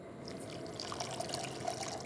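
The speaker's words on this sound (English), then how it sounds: "I'm going to add to that 130 mils of cold water" Cold water pours steadily into a pan of sugar with a continuous soft trickling splash that is close and fairly quiet, with no talking.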